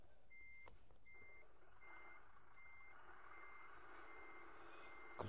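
A truck reverses with its warning beeper sounding in short, regular beeps, faint and a little distant over a low engine drone.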